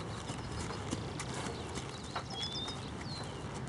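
Horse hooves clip-clop softly and steadily during English riding training, a faint even rhythm over low background noise, with a few bird-like chirps in the distance.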